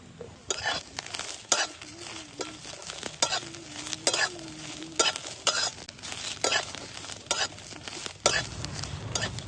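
Onion fries in a pan with ginger and garlic for a spicy egg curry, with a soft sizzle under repeated loud scraping strokes of a spatula against the pan, roughly every second, close up.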